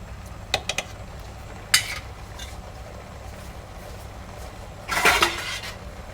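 A lid clatters shut on a pot of home-style one-pot chicken dum biryani just after ghee is added, a few light metallic clinks followed by a louder clatter near the end, close by with no talk.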